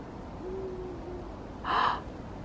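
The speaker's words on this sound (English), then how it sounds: "Did you guys hear that owl?" An owl gives one soft, drawn-out hoot somewhere off in a snowy winter forest, faint against a steady outdoor hush, followed by a short breathy gasp nearby.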